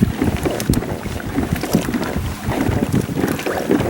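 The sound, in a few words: wind blowing while sailing a Hobie Tandem Island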